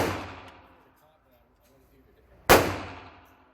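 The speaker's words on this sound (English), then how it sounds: "First shots." A NAK9 Draco pistol fires one sharp, loud gunshot at a shooting range, its report ringing and decaying after a quiet stretch, with a fainter earlier shot fading at the start.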